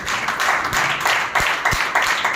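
A church congregation claps loudly together, a dense, steady wash of applause that carries on without pause, with a few sharper claps standing out.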